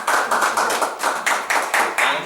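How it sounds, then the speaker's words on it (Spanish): A small group at a home worship gathering claps for the Lord in a steady, rhythmic beat, about two claps per second, close and fairly loud, with no voices over it. "otro aplauso al Señor"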